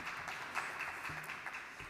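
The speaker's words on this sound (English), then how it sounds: "a big applause," Faint, distant audience applause fills a hall at an international forum on global citizenship, a brief even wash of clapping with no clear individual claps.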